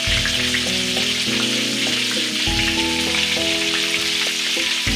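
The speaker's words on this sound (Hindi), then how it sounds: "हमने बैंगन फ्राई करने के लिए रख दिए हैं।" Eggplant slices frying in a pan for baingan bharta, a loud, dense, unbroken sizzle close up with faint low thumps underneath.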